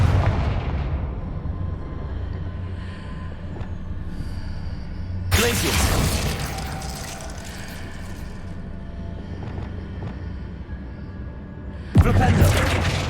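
Confringo, a fiery blasting spell in Hogwarts Legacy, lands with two sharp, loud explosive bursts set far apart, each followed by a rumbling decay over steady background game sound.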